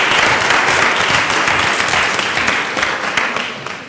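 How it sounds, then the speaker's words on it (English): A lecture audience applauds loudly and steadily, a dense wash of clapping that fades slightly toward the end, with no talk over it. "Can we give a really big round of applause,"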